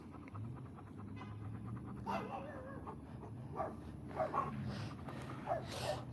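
A dog pants quietly and steadily nearby, with soft breathy huffs and a few faint whimpers over a low background hum.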